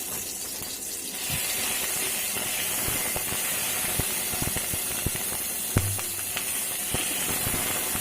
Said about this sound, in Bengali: এবার আমি এর মধ্যে একটু রসুন পেস্ট দিয়ে দিচ্ছি।